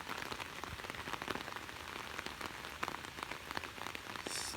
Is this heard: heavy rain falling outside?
yes